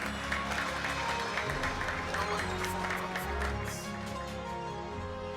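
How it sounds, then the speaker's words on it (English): An awards ceremony audience applauds as an honoree is welcomed on stage, a faint distant spread of clapping over a low hall rumble and background music that lasts several seconds. "A very big round of applause, please, as we welcome up on stage Joanna Opare"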